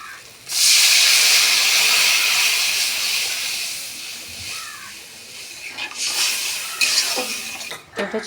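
Pointed gourds frying in a pan burst into a loud hiss and sizzle the moment a little water hits the oil. The sizzle slowly fades, followed by a few light clinks and a second, softer flare of sizzling.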